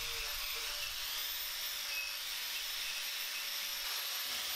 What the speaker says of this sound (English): It's just back to the grinder and more cleaning.